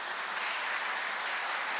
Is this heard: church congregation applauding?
yes